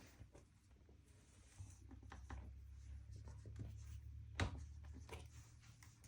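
A pen or pencil draws a line segment by hand on paper during a geometry lesson, giving a soft, continuous scratchy stroke with a brief sharper scrape near the end, faint and alone.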